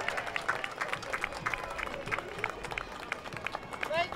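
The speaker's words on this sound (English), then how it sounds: "Ladies and gentlemen, a round of applause." Audience clapping along a Memorial Day parade route in Wood Dale, a scattered outdoor round of applause with crowd noise, steady and moderately loud for several seconds.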